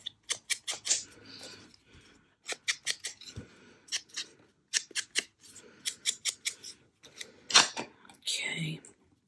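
Scissors snip through card in quick repeated bursts of sharp, close cuts separated by brief pauses, with soft voices between the snips.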